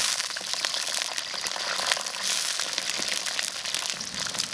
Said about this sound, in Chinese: 这茄子下锅炸。